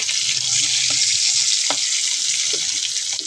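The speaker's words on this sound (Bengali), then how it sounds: "চিংড়ি মাছগুলো ভাজা হোক, তারপরে আসছি।" Shrimp frying in hot oil for a pumpkin and shrimp curry, a continuous bright sizzle with a few soft clinks of utensils, close and steady with no talking.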